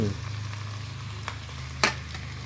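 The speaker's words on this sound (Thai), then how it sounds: "ผมก็จะเอาหน่อไม้เทลงไปเลย" Pickled bamboo shoots are tipped into a pan of frying frog meat and stirred. A close, continuous sizzle sounds under the scrape of the spatula, with a sharp clatter near the end and no talking.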